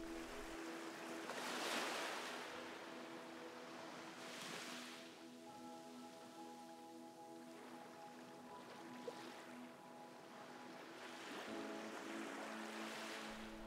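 Soft ocean waves wash in and recede in slow swells, steady and gentle, with faint tonal hum lingering beneath the surf.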